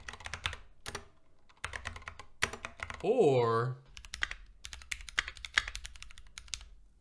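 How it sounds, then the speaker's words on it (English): A custom mechanical keyboard clatters with bursts of quick, close key presses, joined by a brief spoken word midway. "Time to start planning how you want your keyboard to sound"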